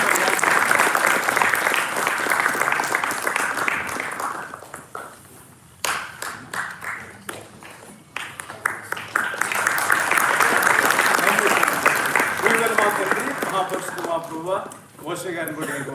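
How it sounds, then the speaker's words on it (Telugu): A church congregation at a New Year service applauds a couple with loud sustained clapping that dips briefly in the middle and then swells again, with voices speaking over parts of it. "So let's give them a big hand of applause."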